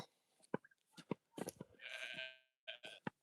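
A goat bleats in a few short, loud calls, with one long wavering bleat in the middle, heard close and alone with no one talking.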